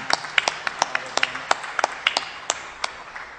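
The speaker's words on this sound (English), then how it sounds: "Let's clap for Brenda because she did a really terrific job" A sparse scattering of individual claps for Brenda Marks at a League of Women Voters debate forum, with distinct separate hand claps ringing out irregularly at moderate volume over a quiet room.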